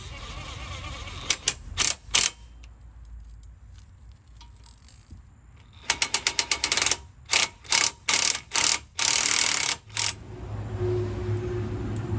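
New bolts being tightened on a truck wheel hub of a 2006 Chevy Silverado, a series of sharp ratcheting bursts, a few early then a rapid run of loud clicking pulls, close against a low background hum.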